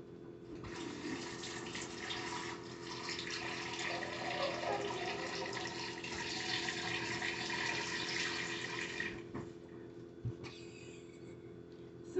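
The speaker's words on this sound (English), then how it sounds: "So what you do is you fill it up with cold water." Cold tap water pours into a container in a kitchen: a steady, fairly quiet rushing stream that runs on its own for about nine seconds, then stops, leaving a few faint clicks and knocks.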